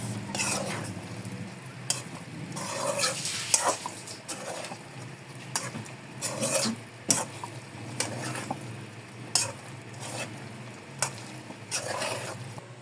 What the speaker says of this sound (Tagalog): Haluin nyo lang maigi para lahat ng tokwa malagyan ng mayonnaise